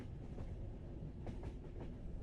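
A train in a quiet storybook setting, with faint rhythmic clicking and a steady rumble, soft and distant, no talking.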